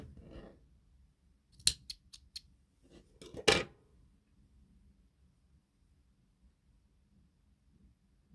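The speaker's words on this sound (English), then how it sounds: "So I'm going to come and cut my yarn," Two quick snips of scissors cutting crochet yarn, close and crisp, with a short pause between them and near silence around.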